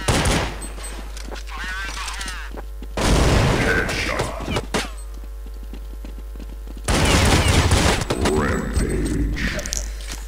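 Pistol gunfire in the PC shooter Counter-Strike 1.6, coming as loud bursts of rapid shots in two clusters separated by a quieter stretch, heard over constant game background noise.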